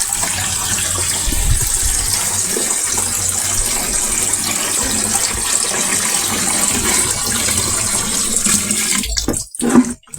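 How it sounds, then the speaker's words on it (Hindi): A strong, continuous gush of water fills a small washing machine for about nine seconds, loud and close, then cuts off abruptly, followed by a few brief knocks. "तो देख सकते हैं इसमें ये पानी डाल रही हूँ।"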